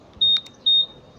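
A Honda motorcycle alarm gives two short, high-pitched electronic beeps in quick succession, fairly loud against a quiet background.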